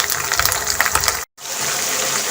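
Water is poured little by little into tomatoes frying with masala for a Delhi-style tinda sabzi, making a steady close gushing hiss and sizzle that stops briefly, then resumes.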